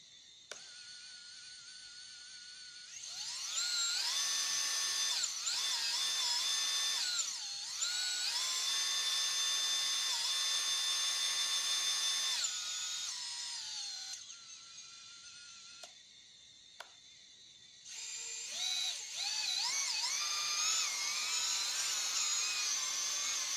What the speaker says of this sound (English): Probably you can hear the motor sound, and they are very smooth sounds like that.